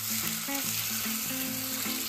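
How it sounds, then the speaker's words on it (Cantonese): Pork chop fries in oil in a pan over high heat, giving a steady close sizzle throughout, with background music playing over it. "開大火將豬扒放入 pan 裏面"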